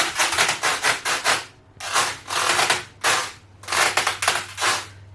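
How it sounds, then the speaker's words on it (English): Footsteps thud and creak on a hollow plywood (OSB) floor laid over foam insulation in three bursts of rapid steps separated by brief pauses, loud and close, with a steady low hum beneath. "when I walk, even on the OSB board plywood floor, it's going to sound like this."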